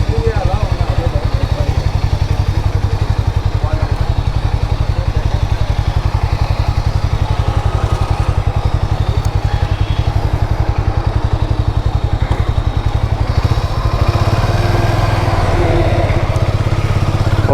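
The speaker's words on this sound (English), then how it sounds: "Okay, so Harley 440X. Let's ride this beast." A Harley-Davidson X440 motorcycle engine runs close by with a loud, steady low thump and rattly mechanical clatter, dropping to a smoother idle near the end.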